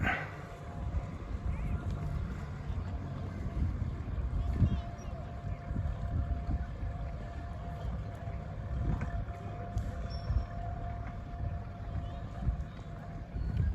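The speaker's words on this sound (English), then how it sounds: "We watch this boat for a minute." A boat engine drones at a distance across open water in Rockland Harbor, Maine, a low steady rumble with faint background activity and occasional soft thumps.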